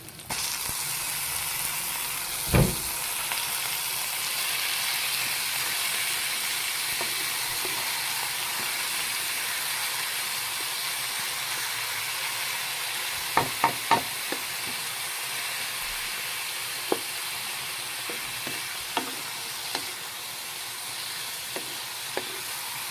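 Pork sizzling in a hot pan for Bicol express, a constant loud frying hiss with a few sharp clinks of a utensil against the pan and no talking.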